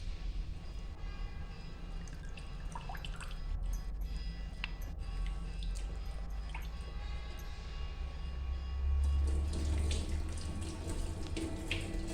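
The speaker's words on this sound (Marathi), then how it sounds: "आता आपण हे सुकट पण धुवून घेतो." Dried fish is rinsed in a sink under a running kitchen tap, a steady close splash and hiss of water that swells louder near the end, with no talking.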